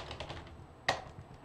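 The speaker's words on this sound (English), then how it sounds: "So now I'm typing the thing in here." Soft keystrokes tap on a computer keyboard while a message is typed into an ADAM BBS program, a light irregular patter of clicks with one sharper key press midway, quiet and close.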